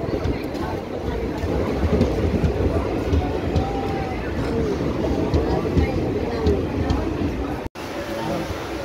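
Crowded Indian Railways train running on the rails between Balipara and Murkokselek, a steady loud rumble and rattle of the carriage with murmuring voices in the background throughout.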